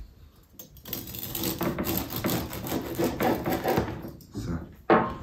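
A knife saws through a loaf of homemade spelt wholegrain bread, giving a steady close rasping crunch with repeated strokes, a brief pause, then a final sharp cut.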